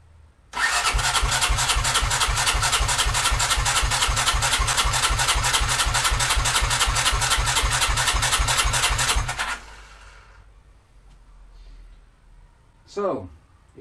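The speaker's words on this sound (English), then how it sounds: "let's crank the engine" A Honda CX500C motorcycle engine cranks rapidly and rhythmically with throttle wide open during a compression test for about nine seconds, loud and close, then cuts out, leaving a quiet hum and a brief rising whine.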